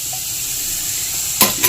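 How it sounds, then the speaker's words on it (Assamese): Jaggery heats in a kadai (wok) for a Magh Bihu pitha, giving a steady, close frying sizzle that ends in a sharp stirring scrape and clatter. "এতিয়া মই কেৰাহীটো পাতি এয়া মিঠৈখিনি দি দিছো"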